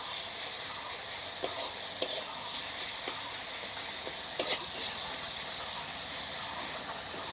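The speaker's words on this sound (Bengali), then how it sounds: "এখন পেঁয়াজগুলো ভেজে নেব হালকা।" Onions sizzle lightly in a pan for a Bengali rohu fish curry with tender brinjal, a steady broadband hiss with a few sharp clinks of stirring, close and alone with no talk.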